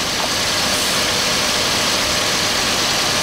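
A car engine runs steadily during an air conditioner refill, a loud, broad, constant hum and whoosh close by with no talk.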